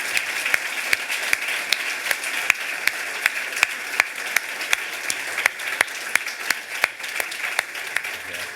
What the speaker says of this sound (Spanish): Esto merece un aplauso para los dos